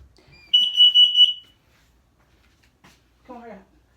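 A carbon monoxide alarm in an apartment sounds one loud, steady high electronic tone for about a second, followed by a short spoken warning from the alarm's voice.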